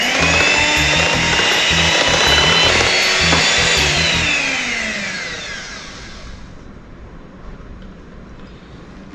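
An electric mixer whirs loudly and steadily through vanilla sponge cake batter, then winds down and stops partway through, leaving quiet room tone with no talk.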